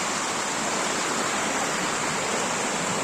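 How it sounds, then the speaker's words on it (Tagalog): Steady rushing water of the Elsa river at Colle Val d'Elsa, loud and constant like strong waves or fast current churning nearby, with no voices. "Malakas ang alon"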